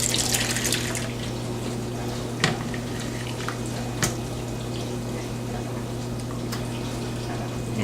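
Tap water runs steadily into an evaporated milk can, a continuous close splashing stream with a couple of faint knocks along the way.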